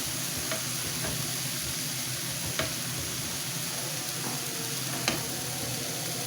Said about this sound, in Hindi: प्याज हमारा जो है इसको मैं ज़रा फ्राई करती हूँ